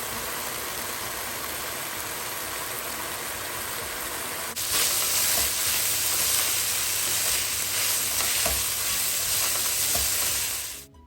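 Bacon strips crisping in a dry pan with no oil added, a steady broadband sizzle that grows louder and denser partway through, close and continuous with no talking.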